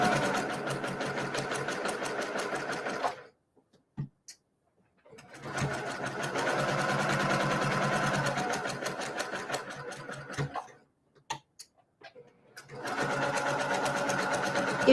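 Sewing machine stitching a quilt block, running in three long steady bursts of rapid mechanical whirring and clatter separated by quiet pauses with small clicks, loud and close.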